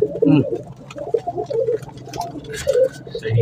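Pigeons at an open-air pigeon market in Shahdara, Lahore, give soft, repeated low coos and bubbling calls at close range over a busy murmur of background activity.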